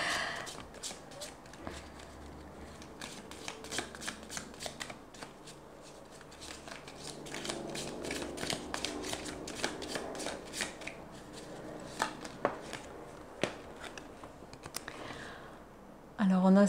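Oracle cards being shuffled by hand, a close, busy run of soft riffling flicks and taps repeating throughout, with someone speaking over parts of it.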